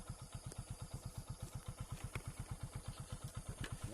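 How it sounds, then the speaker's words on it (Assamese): A motorcycle engine idles nearby with a steady, quick pulsing thump at an even rhythm, quiet and unaccompanied by talk. "এতিয়া ধুনীয়াকৈ বাইকত বহিলোঁ"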